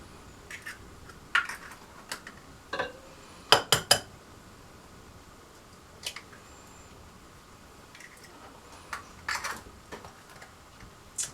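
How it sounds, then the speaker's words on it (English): Eggs tapped against the side of a bowl while making a goat's cheese omelette: a few sharp, quiet clicks and knocks spaced irregularly over a near-silent kitchen, with no talking. "There's probably lots of tricks to cracking eggs, but I just tap it on the side of the bowl"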